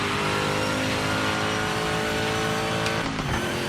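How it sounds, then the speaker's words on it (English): A Trans Am race car engine in a racing video game roars steadily at high revs, loud and continuous, with a brief shift in pitch near the end. "Real race car. Real Trans Am race cars."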